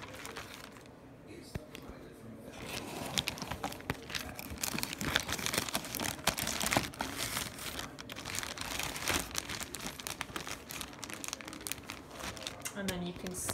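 Plastic bag crinkling and rustling as a box of alcohol wipes is placed inside a DIY pump holder bag; steady, close, continuous crackle with quiet talk underneath.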